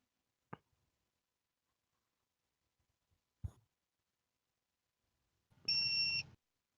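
A parked truck, switched off and running on its battery, gives a single short electronic warning beep near the end, preceded by two faint isolated clicks in an otherwise quiet room.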